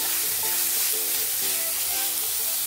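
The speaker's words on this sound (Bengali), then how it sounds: "শাকটা দিয়ে ভালো করে নাড়াচাড়া করে নিতে হবে।" Fenugreek greens stirred in a hot pan for methi paratha, giving a steady close sizzle and hiss with soft scraping strokes throughout, no voices.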